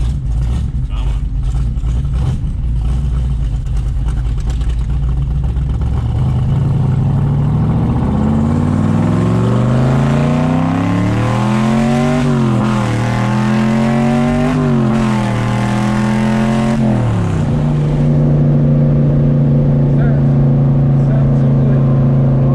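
A big-block C3 Corvette with a four-speed and side pipes rumbles loudly at idle, then revs up and down in several rising and falling surges before settling back to a deep idle, with people talking over the engine.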